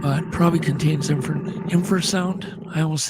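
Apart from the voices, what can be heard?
No everyday noise stands out behind the speech.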